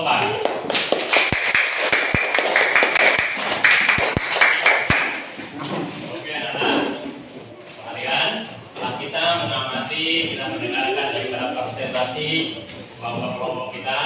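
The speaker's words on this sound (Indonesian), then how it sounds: "beri tepuk tangan untuk kelompok 4" A fourth-grade primary school class gives a short burst of hand clapping and tapping for a student group, lasting a few seconds before voices take over and talk fills the rest.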